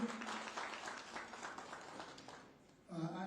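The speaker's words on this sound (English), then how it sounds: "Another round of applause for Mr. Tabe." Audience applause at the Chibuku Super Cup draw event, scattered clapping from a crowd lasting nearly three seconds before a voice begins speaking.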